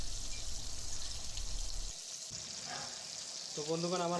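Fish fries in a pan, a steady sizzle with low rumble that thins out midway, and a voice briefly sounds near the end.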